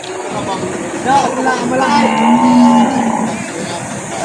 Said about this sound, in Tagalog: Yan, may kalabaw si bossing dito.